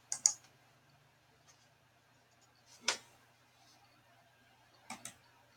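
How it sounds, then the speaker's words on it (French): A few sharp computer mouse clicks, isolated and close, spaced a couple of seconds apart in a quiet room while customising a theme. "Je clique sur personnaliser."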